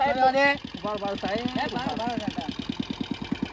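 An Activa scooter engine idles steadily with a regular low pulsing beat, while a person talks loudly over it at first.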